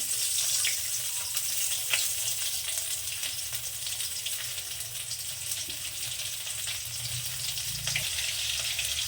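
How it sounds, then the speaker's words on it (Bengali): Chopped green chillies sizzle steadily in hot frying oil in a home kitchen pan, a continuous close crackling hiss with no one talking. "তেলের পর দিয়ে দিলাম চিড়ে রাখা লঙ্কা কাটা"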